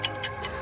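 A clock ticks three times in a quick, even rhythm, crisp and close against a quiet background.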